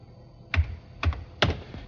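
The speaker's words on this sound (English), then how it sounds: "you can sit down and start typing in your theme" Keystrokes on a computer keyboard as a theme is typed in, three separate clattering bursts of keys spaced about half a second apart, close and clear with no talking.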